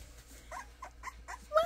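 Four-week-old puppy whimpering close by, a series of short, soft high yips and whines in a loose rhythm, ending with a louder squeak.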